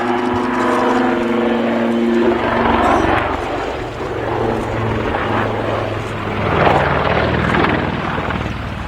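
Display helicopter coming into a hover at the Cosford Air Show, a loud continuous rotor and engine drone with shifting pitch, with a commentator talking over it.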